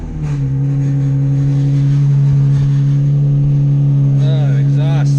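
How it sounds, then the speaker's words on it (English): A car engine runs close and loud with a steady low drone through its exhaust, rising slightly as it revs, while a voice speaks briefly toward the end. "Oh, the exhaust sucks."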